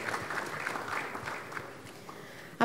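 An audience at an SEC capital market event in Takoradi claps, a steady ripple of applause from a seated crowd, moderately loud and close, fading slightly before one final sharp burst.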